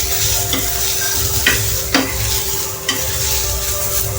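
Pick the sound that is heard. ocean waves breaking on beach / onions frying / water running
onions frying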